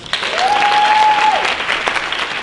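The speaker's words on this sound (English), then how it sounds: "Now let's give them a round of applause" A crowd at a student hackathon applauds a presenting team, a loud continuous burst of clapping with a brief tonal whistle-like tone riding over it for a moment.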